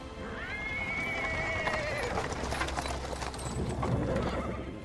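A cart drawn by a small horse rolls over paving stones, with clip-clop hooves and a whinny amid steady street bustle and voices, the wheels' rumble continuous throughout.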